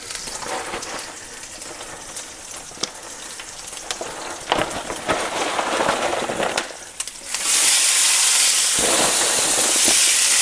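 Onion sizzles in bacon grease in a pan, crackling and popping close up, then swelling into a loud, steady hiss.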